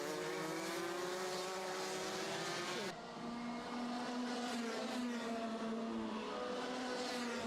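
Racing karts scream around an outdoor circuit at a UK championship round at Warden Law. The high-pitched engines whine continuously at close range, with the pitch dropping and climbing as they brake and accelerate through corners.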